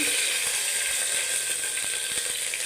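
Crushed ginger, garlic and green chili frying in oil in a pan for prawn biryani, a steady close sizzle with a few soft ladle taps, no talk.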